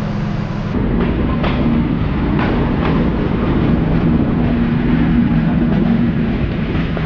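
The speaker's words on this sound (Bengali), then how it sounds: "পৌঁছে গেলাম দর্শনা রেল স্টেশন" Chitra Express train pulling into Darshana railway station, a steady loud rumble of rail wheels and carriage noise with faint rhythmic clacks running through the whole stretch.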